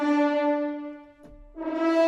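A multi-tongued articulation sample from music composition software plays: a sustained, harmonically rich wind tone that fades into a brief gap, then returns strongly, heard alone.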